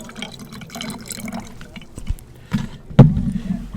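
Lemon juice poured into a jigger for a Shark's Tooth tiki drink makes a short, close liquid trickle and splash. A few clinks and a louder knock of glassware follow near the end.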